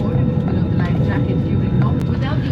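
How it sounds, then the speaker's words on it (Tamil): An IndiGo airliner takes off on a flight from Arunachal Pradesh, its engines making a loud, steady roar up close while a passenger talks over it. "இப்போ டேக் ஆஃப் ஆச்சு பார்த்தீங்களா இண்டிகோ ஃப்ளைட்டு"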